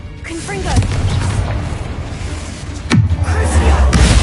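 A Confringo fire spell explodes in Hogwarts Legacy inside an eerie tomb. A single sharp, booming blast lands near the middle, set against a rumbling, eerie game backdrop with voice-like sounds.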